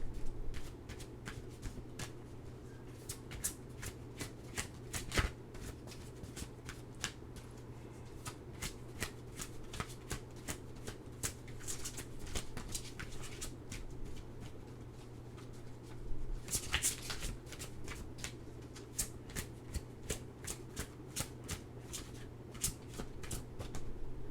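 Oracle cards being shuffled by hand, a steady run of soft riffling clicks and flutters over about twenty-four seconds, with a constant low hum underneath and no talking.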